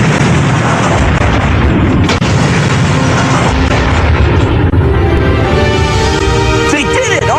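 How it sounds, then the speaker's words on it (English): A loud, sustained explosion fills an animated sci-fi action series, with rumbling booms and burst debris over several seconds, while character voices talk over it. "Kaboom time coming right up."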